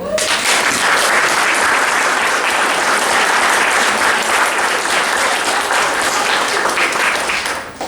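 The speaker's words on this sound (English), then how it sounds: "Can we give a final round of applause to all the athletes and sports represented here tonight?" Sustained, loud applause from an audience at a university sports awards ceremony honoring athletes, a dense wall of clapping that holds steady for several seconds before thinning slightly at the end.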